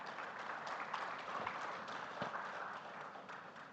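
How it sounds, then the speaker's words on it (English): Audience at a plenary session of a scientific conference applauds a senior scientist being introduced, a steady, moderately distant wash of clapping that holds evenly throughout. "a round of applause for him"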